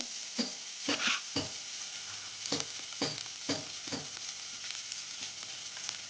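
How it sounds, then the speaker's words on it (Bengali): Ginger paste and chopped green chilies fry in hot oil with a continuous soft sizzle, broken by repeated scraping stirs of a spoon or spatula in the pan at irregular intervals, close and moderately quiet. "আদা বাটাটা দিয়ে তেলে ভালো করে নেওয়া একটু"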